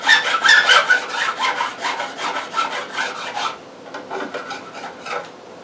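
A metal file levels guitar frets, giving fast rhythmic rasping strokes that are loud and close, then a lighter, softer run of strokes toward the end.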